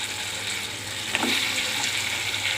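Drumstick pods dropped into a hot garlic, tomato and chilli tempering for a dal, giving a steady close sizzle with a brief louder crackle as they hit the oil, no voices.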